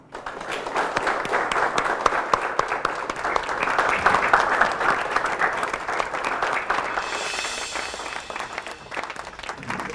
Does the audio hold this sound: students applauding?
yes